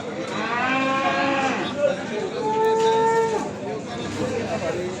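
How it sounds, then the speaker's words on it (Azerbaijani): Calves lowing at a livestock market in Beyləqan, two or three drawn-out moos close by over a crowd murmur, with someone talking. "Əziz qardaşlar, bax belə danalar var,"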